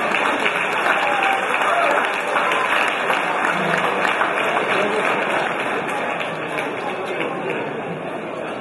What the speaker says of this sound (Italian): Un altro grande applauso.